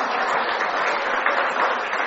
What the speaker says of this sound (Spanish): vamos a aplaudir para recibir la palabra